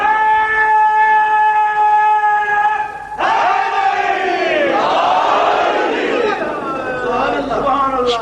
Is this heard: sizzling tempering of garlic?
no